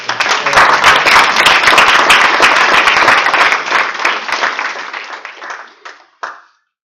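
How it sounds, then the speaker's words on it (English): An audience at a candidate forum gives a loud, full round of applause that holds steady, then tapers off into a few last scattered claps before silence. "Ladies and gentlemen, can we have a nice round of applause?"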